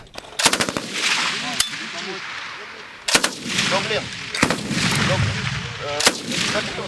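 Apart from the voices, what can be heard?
machine gun fire during military training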